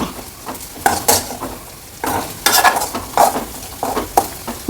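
Crushed coconut pieces fry in oil in a pan under a soft sizzle, while a spatula scrapes and stirs in repeated close, sharp strokes.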